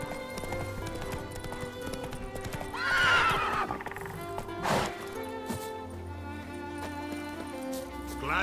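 Horses in the video game The Witcher clip-clop steadily at a race, and one lets out a loud whinny partway through against a busy background.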